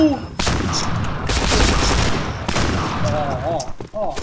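Rapid gunfire from the online shooter Point Blank rattles in loud, dense bursts, while a player talks excitedly over the shots.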